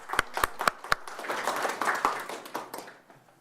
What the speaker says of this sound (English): So please, let's give him an applause.